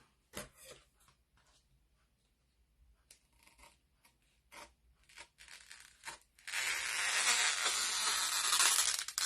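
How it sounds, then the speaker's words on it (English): Transfer trimmer cutting apart a transfer sheet: scattered crisp snips and paper crinkles, then a sustained loud rustling, scraping pass of the blade along the cut line, close up with no talking. "I'm just going with my transfer trimmers over the cut line."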